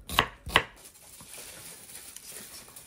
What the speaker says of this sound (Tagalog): Sabay hiwa.